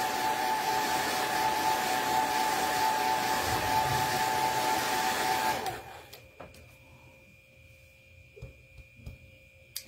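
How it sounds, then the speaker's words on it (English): A hair dryer blows steadily and loudly to dry a chalk stencil for a Chalk Couture craft project, then cuts off about halfway through, leaving quiet room noise with a few faint clicks. "I just happen to have my blow dryer plugged in, so I'm gonna use this"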